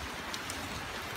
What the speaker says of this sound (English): It's not like pouring, but it's